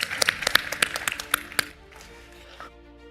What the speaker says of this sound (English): So a round of applause for our panelists, please.